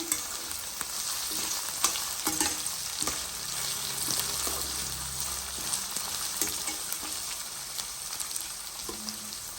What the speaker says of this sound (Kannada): ಕ್ಯಾಪ್ಸಿಕಮ್ ಹಾಕಿದ್ಮೇಲೆ ಅದು ಸ್ವಲ್ಪ ಬೇಯಕ್ಕೆಬೇಕು ಆಯಿಲಲ್ಲಿ ಫ್ರೈ ಆಗ್ತಾ ಇದೆ